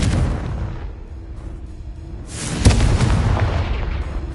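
The Confringo explosion spell in Hogwarts Legacy goes off with a single booming blast, a dense roar that swells and lingers over continuous game background rumble.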